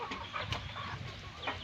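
Chickens clucking in short, scattered bursts against a steady low rumble of farmyard background noise.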